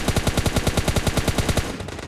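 Automatic gunfire in PUBG Mobile Lite during a solo-versus-squad match, a loud, close, rapid burst of evenly spaced shots lasting under two seconds, then fading, with no talk.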